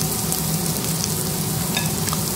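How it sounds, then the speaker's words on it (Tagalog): Beef liver frying in a pan gives a steady, loud, dense sizzle with crackling spatter throughout, alone with no voices. "Ilagay na natin yung liver ng baka."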